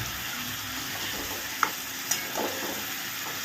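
Cabbage sautéed and stirred with chilli-powder paste in a pan over low to medium heat, giving a steady close sizzle with a couple of sharp utensil scrapes and clicks.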